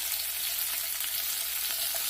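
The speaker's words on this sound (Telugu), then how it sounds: "తర్వాత అందులో పచ్చిమిర్చి మరియు వెల్లుల్లి వేసి మరికొన్ని సెకండ్లు వేయించుకోవాలి." Sesame seeds, green chilies and garlic fry in hot oil with a soft, even, continuous sizzle that stays low and steady throughout, close by with no voices or stirring strokes.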